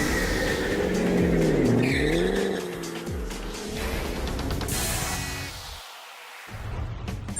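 A 2013 Ford Shelby GT500 Mustang with 662 horsepower launches hard, its loud engine roar sweeping up and down through gears as tires squeal, close and dominant throughout, with a brief dip near the end.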